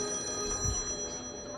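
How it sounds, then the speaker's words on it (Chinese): A phone rings faintly with a steady electronic tone at a street stall where someone is painting, continuing quietly with no talk throughout. "结果呢，电话突然响了"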